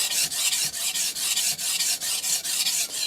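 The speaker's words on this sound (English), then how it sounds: "This is a fairly coarse stone, so this ought to raise a burr fairly quick." A German steel cook's knife scrapes in steady back-and-forth strokes across a coarse Shapton Kuromaku 320 whetstone, each pass a bright, close rasp repeating about every half second without pause.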